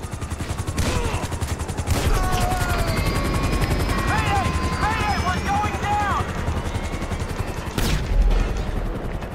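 Helicopter rotors thump steadily overhead in the video game GTA 5, with bursts of gunfire cracking through at intervals and a loud impact near the end, the din continuous and close.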